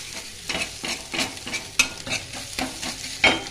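Eggs being scrambled and fried in a pan, a spatula scraping and stirring in quick repeated strokes over a soft sizzle, close and fairly loud.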